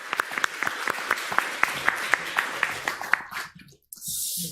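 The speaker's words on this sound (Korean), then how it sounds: "하나님께 영광의 박수 돌릴까요?" A church congregation claps together in a quick, even rhythm, moderately loud and fairly close, before the clapping dies away into a short pause and speech resumes.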